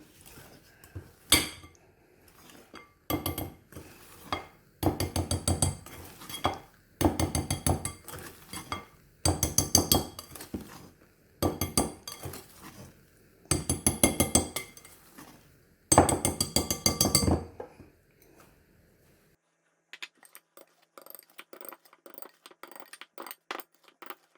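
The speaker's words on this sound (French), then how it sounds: "je vais commencer à introduire le mélange de poudre tout doucement. Sans casser les blancs d'œufs" A spatula folds a powder mixture into whipped egg whites, sending a series of rhythmic clinking scrapes against the bowl in bursts of several seconds each before things go quieter near the end.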